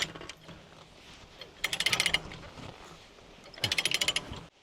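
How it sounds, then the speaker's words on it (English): A ratchet load binder is cranked tight during foundation repair on a 50-year-old house, producing two rapid runs of loud metallic clicks, each lasting about half a second, with a quieter stretch between them. "I am tightening the binder now"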